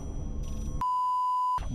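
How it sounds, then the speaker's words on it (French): Electronic telephone ring in a Backrooms video game: a single sustained steady beep tone lasting under a second, clear and close against a low background rumble. "Y'a un téléphone qui sonne."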